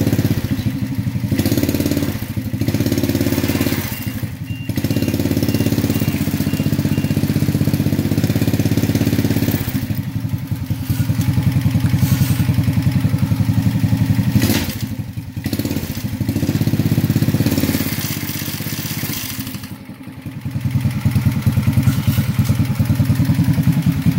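A buggy engine runs in four-wheel drive gear with the vehicle up on jack stands, a loud steady mid-pitched drone with clattering and a few brief dips and thumps throughout.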